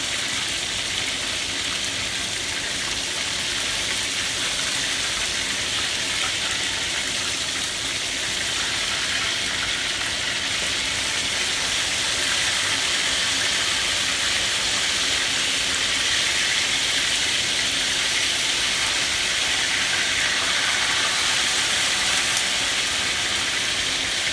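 Jamaican sliced fish frying on high heat in a pan, a loud continuous hissing sizzle that holds steady for the full length with no talk.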